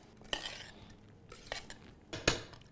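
A spoon mixes veal tartare with olive oil, ground pepper and salt in a bowl in a restaurant kitchen: three sharp, close metallic clinks over a quiet background.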